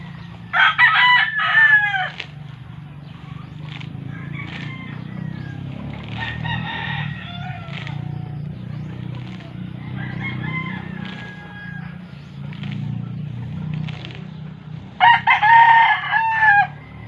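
Roosters crow in several bursts, at the start, middle and end, over a steady low hum, with caged hens clucking between calls.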